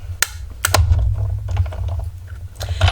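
A die-cutting machine feeds a sheet through, giving crunching, cracking clicks in sharp bursts over a steady low mechanical rumble, close and fairly loud.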